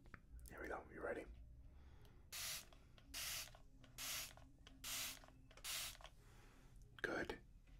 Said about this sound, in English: I'll keep spraying your face, and you just let me know.